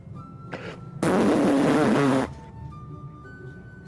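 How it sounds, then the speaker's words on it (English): A fart sound effect plays during an NHL 25 hockey video game session: one loud, buzzy, sputtering blast of about a second over quieter background game audio. "Fart noise."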